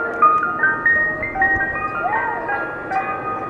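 Tinkling ice cream truck melody blaring from a Tesla Model 3's external speaker outdoors, clear and fairly close, a bright chime tune running alone for a few seconds.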